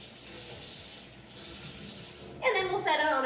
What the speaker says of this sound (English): I'm going to finish up by washing it under cold water again, making sure to turn it so we get every angle of that cauliflower clean